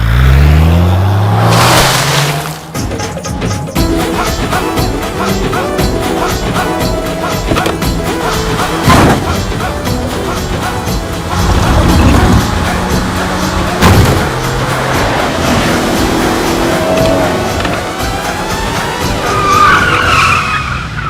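A car driven hard in an action comedy film scene, its tires skidding and squealing loudly through repeated sharp slides over a roaring engine, with crashing impacts breaking in at moments.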